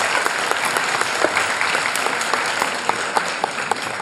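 A school audience claps steadily through an annual report ceremony, a dense, continuous wash of many hands at moderate distance with no voices over it.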